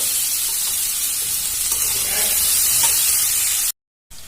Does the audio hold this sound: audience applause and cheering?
no